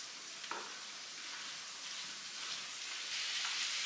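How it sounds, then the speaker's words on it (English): Ground beef browning over raised heat in a pan for bacon cheeseburger egg rolls, a steady hissing sizzle with faint crackles, even and close, growing slightly louder toward the end. "I'm gonna go ahead and raise the heat and get this browned off"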